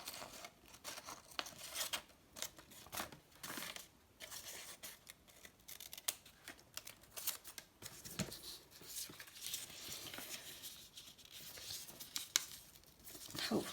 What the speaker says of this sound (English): Cut some off.